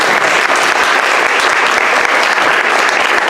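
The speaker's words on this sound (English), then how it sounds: "So round of applause for that." Loud, close applause from a room of staff at a workplace meeting, a dense, even roar of many hands clapping sustained throughout without a break.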